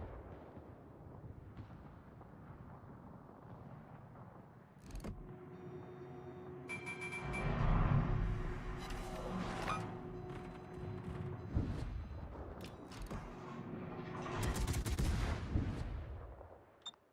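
Warship main guns firing in World of Warships: a sharp salvo followed by a long rumbling, crackling roll of heavy gunfire and blasts that swells and stays loud for several seconds, with no one talking.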